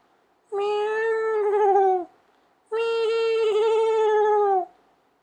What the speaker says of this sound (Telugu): లేదు, పిల్లి అరుస్తుంది, విన్నారు